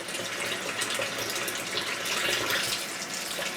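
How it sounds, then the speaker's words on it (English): Cool tap water runs steadily over smoked ham hocks in a sink, a constant bright splashing rush with no talking. "You want to rinse them off with cool water."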